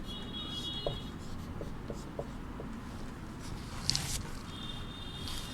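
Pen scratching on paper as a question is written by hand, faint soft strokes in short bursts against a quiet room hiss, close, with no talking.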